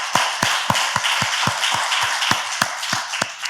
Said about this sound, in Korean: 우리 찬양의 박수 한번 올려드리면 좋겠습니다.